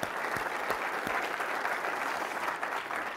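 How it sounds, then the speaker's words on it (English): A conference audience at the Yale Innovation Summit gives a round of applause, a steady wash of many hands clapping at moderate distance that holds for the whole stretch without voices. "I think he deserves a round of applause."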